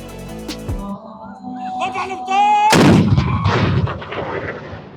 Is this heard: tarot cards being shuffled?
no